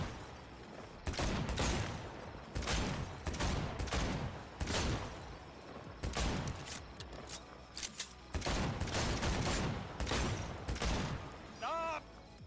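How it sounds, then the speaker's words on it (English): Pistol shots ring out one after another in a bottle shooting contest in Cyberpunk 2077, a steady series of sharp loud cracks about once a second, with game voices talking near the end. "you will have to take part in a bottle shooting contest to win the Amnesty pistol"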